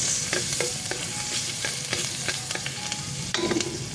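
Garlic and ground pork frying in a pan for a pork giniling dish, loud steady sizzle with repeated scraping strokes of a utensil stirring, close up and with no talking.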